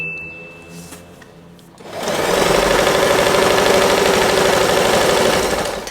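A sewing machine stitches a small folded strip of fabric for a stacked bow, starting after a faint hum and running loud and continuous with a rapid needle rhythm close by.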